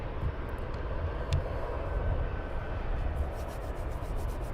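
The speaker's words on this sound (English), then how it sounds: "there should be about 60 arriving and departing aircraft this morning" An airplane at Luton Airport, a steady rumbling jet engine roar holding at a moderate distance, constant throughout without speech.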